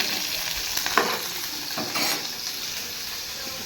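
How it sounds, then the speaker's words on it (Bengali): Dry red chillies fry in hot oil with a steady, close hiss and crackle that holds throughout, rising slightly in a couple of brief surges, with no voices. "তেল দেওয়ার পরে আমি শুকনো লঙ্কা দিয়ে দিলাম শুকনো লঙ্কাটাকে ভালো করে আমি ভেজে"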